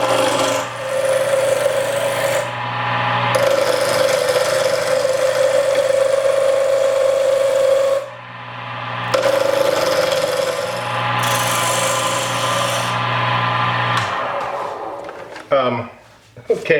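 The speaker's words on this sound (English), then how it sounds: "I'm going to be turning this with my Easy Wood tool." Micarta spins on a lathe while an Easy Wood carbide tool with negative rake shaves it, giving a loud steady hum and scraping rasp in long passes broken by brief pauses, with a clatter near the end.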